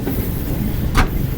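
Shalimar Express passenger train slowing on the rails near Kacha Khuh, a steady low rumble with one brief brighter hiss or squeal midway, heard from inside the carriage.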